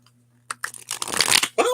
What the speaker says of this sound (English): let me get one of those fancy shuffles